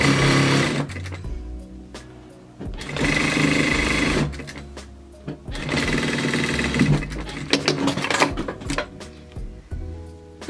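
A domestic sewing machine runs in several bursts while sewing a seam on knit hoodie fabric for kids' joggers, with a steady mechanical whirr and clatter. Short pauses and quieter handling noises fall between the bursts.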